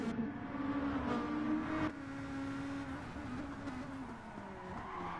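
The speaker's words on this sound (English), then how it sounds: "just narrowly missing his braking zone, locking up the rear tires, and just going off just a wee bit" Race car in Gran Turismo Sport at the Nurburgring locking up its rear tires under late braking and running slightly wide, a sustained engine drone with a tonal squeal that shifts pitch after a sharp change near two seconds, no voices.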